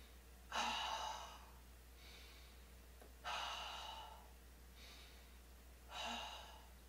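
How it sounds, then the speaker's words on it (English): Slow breathing exercise at the start of a morning yoga practice, with three airy breaths drawn in through the nose and let out through the mouth like a sigh, evenly spaced, soft and close, with no speech. "We exhale mouth, it's like a sigh, belly in"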